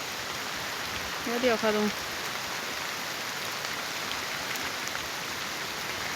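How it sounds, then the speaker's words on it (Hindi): Heavy rain hisses steadily over a village hillside field, a dense even wash of drops throughout, with a brief spoken phrase early on. "जहाँ मैंने जाना उस साइड तो भयंकर ही बारिश लगी हुई है।"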